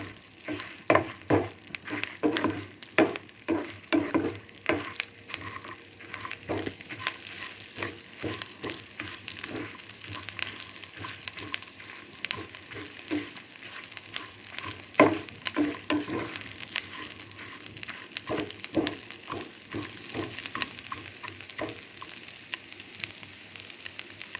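Drumstick leaves (murungai keerai) frying in a pan, giving a steady crackling sizzle with frequent sharp pops and stirring scrapes throughout, moderately loud and close, with no voices.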